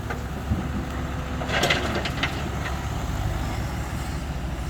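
A machine's engine idles steadily without revving on a test run after its cylinder was welded, giving a constant low rumble with a brief clattering knock partway through.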